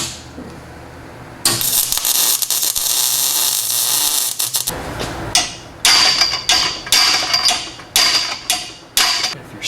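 Repeated hammer strikes on hot steel while welding a custom exhaust on an LS-swapped Jeep, following a long loud hiss of welding or grinding; the sharp, close metallic blows come in an irregular rhythm of about six hits.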